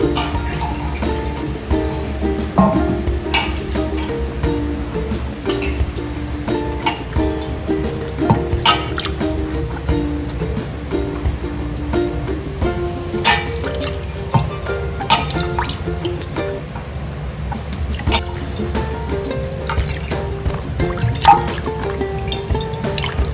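Mangoes being washed in water, with steady dripping, trickling and splashing close by as the fruit is rubbed and rinsed, continuing for the whole stretch with no talk.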